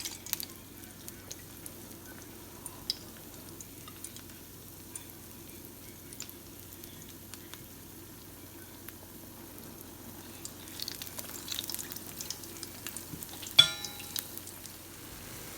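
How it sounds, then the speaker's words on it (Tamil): Small Sri Lankan urad dal vadai deep-frying in hot oil, a faint steady sizzle and crackle running throughout, with occasional stirring clinks and a brief louder scrape near the end, quiet and without voices. "இப்போ பாருங்க எங்களோட வடை நல்லா பொரிஞ்சிட்டுது."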